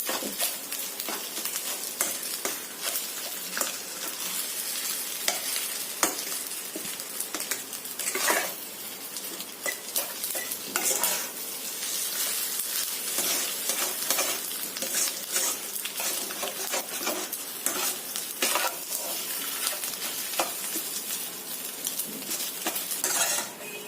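Fish roe frying in a pan for a paratha filling, a continuous loud sizzle over nearly half a minute, broken by frequent rapid scrapes and taps of a stirring utensil against the pan, close and without speech.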